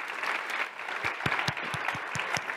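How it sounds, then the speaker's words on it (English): Steady audience applause at an education conference session on digital strategies for higher education, a dense wash of clapping with several sharper individual claps standing out near the end. "let's we'll have another round of applause for"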